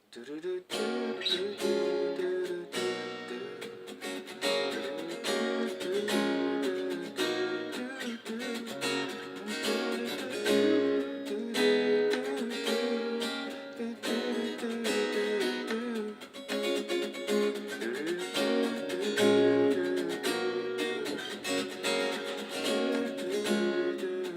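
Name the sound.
acoustic guitar chords for a song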